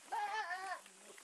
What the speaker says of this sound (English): goats are the few companions he has left in this village